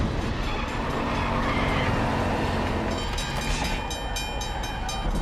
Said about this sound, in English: It's got a wild train sequence that sounds like it's out of like sort of an old school blockbuster